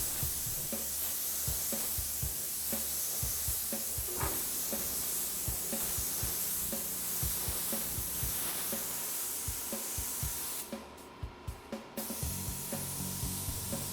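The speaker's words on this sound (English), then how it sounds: "I chose the smaller spray gun" A small spray gun sprays paint onto a car firewall, a steady hissing spray running almost continuously with faint tapping underneath, briefly pausing near the end before resuming.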